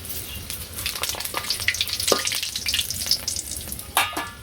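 Cardamom, cinnamon and bay leaves crackle and sizzle in hot oil in a village kitchen, a busy close frying hiss with quick pops and stirring clatter throughout, no voices.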